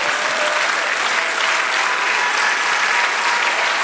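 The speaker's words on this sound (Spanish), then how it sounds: "Dale otro aplauso al Señor." Church congregation applauding the Lord during an evangelical sermon, a dense, steady wash of clapping that holds loud and even throughout with no speech over it.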